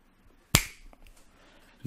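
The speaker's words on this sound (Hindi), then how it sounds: "ये देखिए मैंने चुटकी बजाई है" A single sharp finger snap rings out close and crisp in a quiet room, followed by faint soft rustling and a small click at the end.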